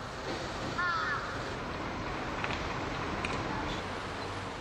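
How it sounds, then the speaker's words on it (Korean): Crows gathering over food waste on a city street in Japan give a brief, clear caw over constant urban background rumble, with the birds heard only faintly afterward. "냄새를 맡고 달려드는 까마귀 떼에 시민들은 공포를 느낄 정도다."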